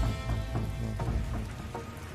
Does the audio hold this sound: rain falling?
yes